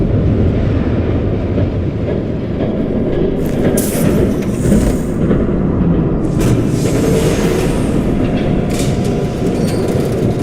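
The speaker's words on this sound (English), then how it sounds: "There's a train coming." Train approaching in the Batman video game, a loud continuous rumble of wheels on rails with intermittent high metallic squeals, close and sustained throughout.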